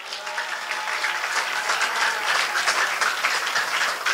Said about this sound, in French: il y a une acclamation pour mon Dieu